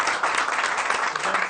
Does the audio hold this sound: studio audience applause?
yes